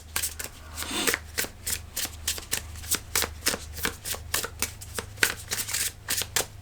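Tarot cards shuffled by hand in a rapid, even run of crisp riffling snaps, close and clear, continuing without pause and with no talk.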